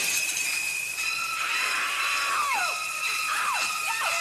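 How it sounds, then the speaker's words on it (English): A woman's screaming sound effect: several shrill, falling shrieks in quick succession over a steady hiss, fairly loud and with no talk. "can you give me a sound of a woman screaming?"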